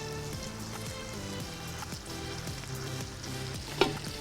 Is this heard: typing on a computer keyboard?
no